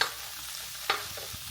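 Cooked rice crisping in a hot pan gives a low, steady sizzle, broken once midway by a short scrape of a utensil against the pan.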